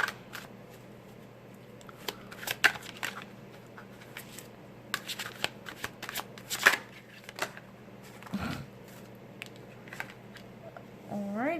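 A Mystical Shaman tarot deck is shuffled by hand in a quiet room, with irregular bursts of riffling and slapping cards, fairly soft and close, while someone speaks briefly.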